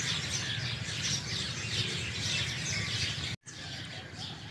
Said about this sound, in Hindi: चिड़ियों की चहचहाने की आवाज़ आपको आ रही होगी।